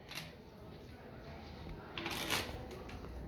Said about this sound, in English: We're going to give it a shuffle.